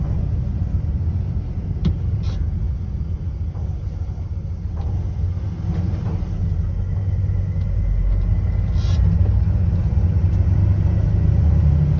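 A 1966 Ford F100 custom cab truck rolls through town in second gear, giving a loud, steady low engine rumble inside the cab with a few faint knocks and rattles throughout.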